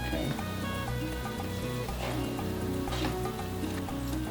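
Peppers, onions, garlic and cilantro sizzling in olive oil with tomato sauce for bacalaitos, a steady close crackle over a low droning hum, with a couple of brief stirring surges.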